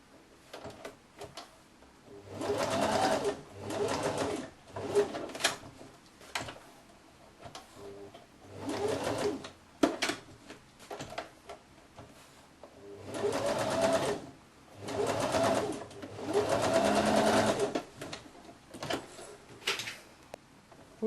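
A sewing machine stitching a second seam on a woman's blouse with a Peter Pan collar, running in several short bursts of rapid whirring stitches separated by quiet pauses, fairly faint and close.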